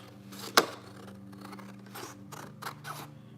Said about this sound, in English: These are sewing scissors.